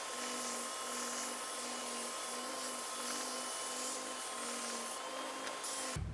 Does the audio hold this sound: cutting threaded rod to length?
yes